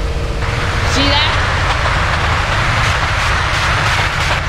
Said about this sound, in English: This train is trying to kill a lot of people.